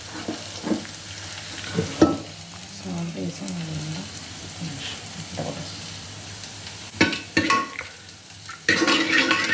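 Rice roasting in a pan with coriander powder, cumin powder and fenugreek leaves, with a little salt, stirred by spoon in scraping strokes over a soft sizzle; the scrapes come in bursts and grow louder and busier toward the end, with no talk.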